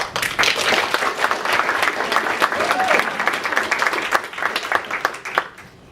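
Audience applause at a university LGBT History Month talk, sustained and fairly loud from a room of many people, tapering off toward the end.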